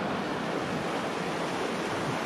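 Rushing water of a rain-swollen Ohio creek in flood, a loud, steady, dense roar of churning current that holds unbroken throughout, with no voices.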